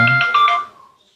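A phone ringtone plays loud and close, a quick bright electronic melody of a few notes that fades out within about a second, with no talk over it.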